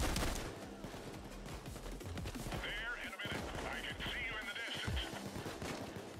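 Rapid bursts of Tommy gun fire rattle through a Payday 2 Reservoir Dogs heist shootout, dense and continuous over a game soundtrack, with players talking over the gunfire.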